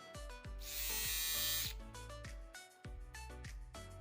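A Flawless electric eyebrow trimmer and shaver buzzes close up with a high, steady motor whine that shifts pitch as it runs, interrupted by brief clicks and handling knocks.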